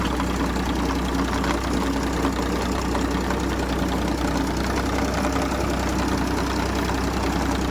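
A Deutz-Fahr Agrolux 50 tractor on a village test drive, its engine running steadily with a constant close diesel rumble and knocking idle throughout, no talk.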